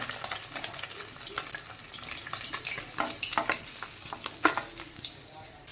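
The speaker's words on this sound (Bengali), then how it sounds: "এইভাবে বাকি মাছগুলোও ভেজে নেব" Bata fish pieces fry in oil with a steady, moderately quiet sizzle, broken by scattered sharper crackles and spits near the end, no voices.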